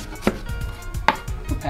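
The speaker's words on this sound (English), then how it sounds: "It's best to always chop the onion in half." A knife chops through an onion on a cutting board, a few separate sharp thunks spaced unevenly, close and clear over quiet kitchen room tone.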